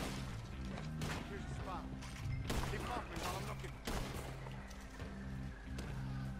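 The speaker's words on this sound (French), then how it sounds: "on est sur de la fusillade, là" Gunfight in Red Dead Online, with repeated sharp gunshots and thuds scattered across the scene, fairly faint overall and mixed with game background sound.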